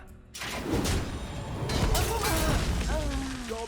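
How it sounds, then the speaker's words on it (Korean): A low engine rumble swells and holds under Hearthstone game sound effects, with a rising whine and some muffled booms near the end. "엔진 소리 죽이는데?"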